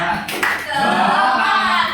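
A class performs a tepuk semangat clapping routine during a microteaching science lesson, with a burst of claps and a voice at the start, then steady, loud clapping filling the rest of the room.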